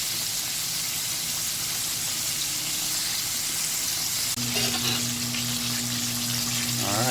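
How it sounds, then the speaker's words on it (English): Four pieces of pineapple chicken deep fry in hot oil with a loud, continuous bubbling sizzle, and a steady tone and faint tapping join in near the end. "So you're gonna fry these 4 pieces for about 15 to 20 minutes."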